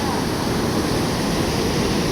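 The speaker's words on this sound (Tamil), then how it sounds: "எவ்வளோ அழகாக தண்ணி போகுதுன்னு பாருங்களேன்" River water pours over a check dam in a steady, loud, unbroken rush of broad noise, close by and continuous throughout, with no clear voices.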